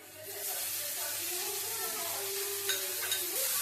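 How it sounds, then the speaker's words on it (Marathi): Tomatoes and browned onions in a frying pan sizzle and hiss steadily while being stirred, with a few soft scraping strokes toward the end and some faint low background noise. "आता हे हलवून घेऊया।"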